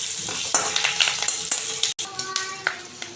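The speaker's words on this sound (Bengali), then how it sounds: "সরষে আর লঙ্কা দিয়ে দিলাম, কারি পাতা দিয়ে দিলাম, একটু সাদা তিল দিয়ে দিলাম। এটা একটু ভেজে নিয়ে" Mustard seeds, chillies, curry leaves and white sesame frying in hot oil, a bright crackling sizzle with sharp popping bursts and a brief stir of utensils, close and lively.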